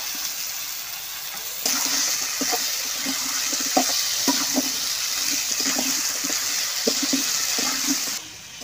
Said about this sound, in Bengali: এই মশলার ভিতরে আমি মাইটি আলু দিয়ে দিচ্ছি